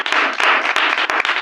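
Congregation clapping in praise to God during a church sermon, a short burst of steady, dense applause with sharp individual claps standing out.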